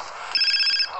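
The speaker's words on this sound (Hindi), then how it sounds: "फोन भी आ गया" A phone rings in the GTA San Andreas video game, a short electronic ringtone burst heard once amid faint game background sound.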